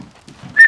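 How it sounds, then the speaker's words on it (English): A brief, clear high whistle, short and close, sounding near the end after a few soft low murmurs. "Sorry you're hearing his whistle."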